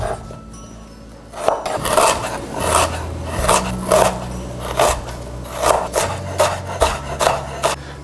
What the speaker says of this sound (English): We're going to cut the ginger.